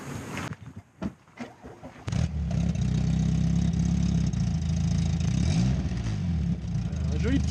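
A Peugeot 205 GTI with a Group A exhaust line fires up after a few clicks and settles into a deep, throbbing idle with occasional blips, while people talk over it in French.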